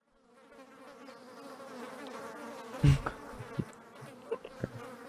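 Recorded fly buzzing played in a classroom, a continuous droning hum that rises and wavers, with a few small knocks and clicks over it.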